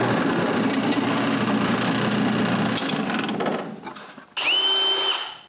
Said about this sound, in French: c'est possible de trouver l'endroit où percer le trou pour fixer l'autre partie et le percer